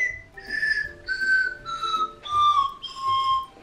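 A strawberry candy whistle is blown in five short, breathy toots, each a clear pitched note stepping slightly lower than the last, close and fairly loud.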